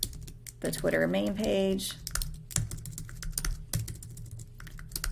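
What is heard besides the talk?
typing on a computer keyboard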